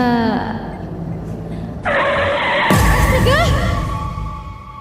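A car brakes suddenly and its tires skid, a loud screech rising after a sharp bang, in a dramatized horror story scene with voices and effects.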